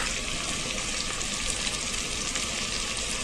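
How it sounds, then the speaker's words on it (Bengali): Chopped tomato fries in a pan with a steady, close sizzle and soft stirring scrapes, continuous and even throughout with no voices. "এবার এটা একটু ভালোভাবে নেড়ে ছেড়ে ভেজে নিব টমেটোটা নরম হয়ে আসা পর্যন্ত"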